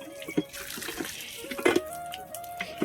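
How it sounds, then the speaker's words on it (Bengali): Water gushing from an old village hand pump, a close, uneven splashing and trickling stream with small bursts and spatters, fairly faint. "আর এখন কল চাপ দিলে জল আসে"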